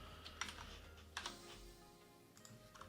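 Quick bursts of typing on a computer keyboard, clustered clacks and taps in a few short runs, close and fairly quiet, with no talk over them.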